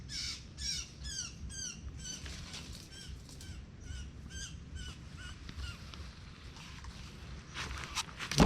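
Orange-headed thrush caught in a trap in a forest, giving a run of harsh, repeated squawks at moderate distance over a low rustling ground of forest noise.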